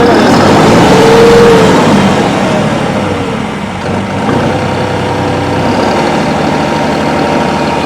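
A New Holland 5620 4x4 CRDi tractor engine runs at a steady, loud diesel idle close by, its low rumble dipping slightly midway before settling back to an even drone.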